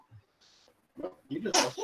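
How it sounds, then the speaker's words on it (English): A tiny, quick sneeze from a small dog, faint at first, followed by people talking nearby. "Adorable tiny baby sneezes."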